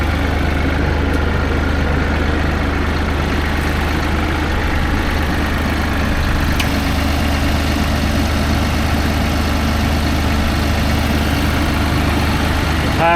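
A Massey Ferguson 4710 tractor with a 931X front end loader idles steadily, a loud, close, low diesel rumble with an even, unchanging pulse and no voices.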